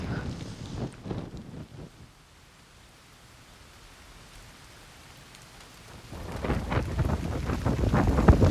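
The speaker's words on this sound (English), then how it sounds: "Rain's getting heavier." Rain falling outdoors in the mountains as a steady broadband wash. It sounds louder at the start, eases off in the middle, then swells again into a heavier, noisier downpour toward the end, with no speech.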